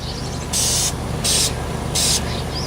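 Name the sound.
spray painting a plastic bottle yellow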